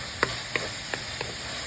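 Utensil stirring fried fish in a frying pan, with four sharp scraping taps spaced about a third of a second apart over a steady low sizzle.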